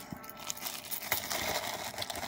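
Close, steady crinkling and rustling of plastic, with small crackles rising and falling throughout.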